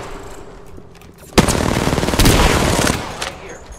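Rapid bursts of gunfire from a video game shooter, a sharp crack followed by a dense, loud volley of automatic fire that carries on for a couple of seconds.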